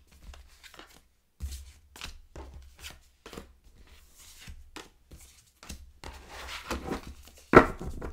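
Tarot cards being spread out and cut on a table, heard as a series of soft, scattered taps and slides with quiet gaps, ending in a brief sharper snap.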